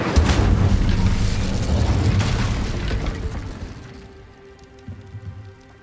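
Incendio fire spell cast in the Hogwarts Legacy video game on PS5: a loud, sustained whooshing burst of flame that rumbles for several seconds, then fades into quieter ambient game sounds.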